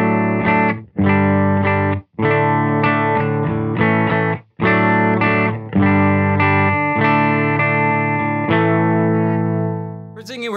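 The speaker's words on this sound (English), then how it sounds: "Silptone amp sounds like this." An electric guitar, a Skylark model, is played through a Silvertone amp in loud, distorted chord strums with short gaps between them, ending on a sustained ring that slowly fades.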